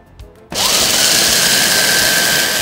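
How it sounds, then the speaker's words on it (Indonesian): An electric food chopper grinding ingredients for kaloci pandan kicks in after a brief quiet moment, then runs as a loud, steady whirring roar with a faint rising whine, close by and alone. "Oke, kita chopper sekarang."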